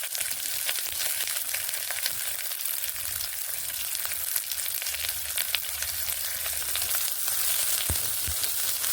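Onion and garlic fry steadily in hot oil, a dense continuous crackling sizzle with scattered pops, close and fairly loud throughout.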